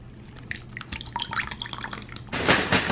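Hot Chinese takeout soup poured into a small bowl: soft drips and small liquid splashes, then a brief, louder gush of pouring near the end, close and fairly quiet.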